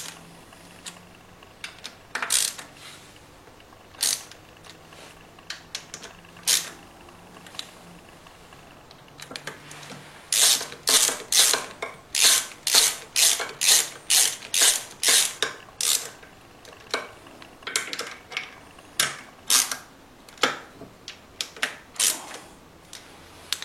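A ratchet wrench snugs a bolt in a preliminary tightening pass, giving sharp, close clicks in irregular bursts that speed into a dense, rapid run midway before slowing again.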